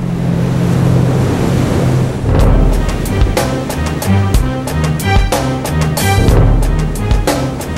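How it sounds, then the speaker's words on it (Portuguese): Ocean waves and strong wind on the open sea, where ships and oil platforms are battered; a loud, continuous broadband roar of surf and gusts, with bursts of crashing spray in the second half. "Em alto mar, navios e plataformas conectados a poços de petróleo são castigados incessantemente por ondas, ventos e correnteza."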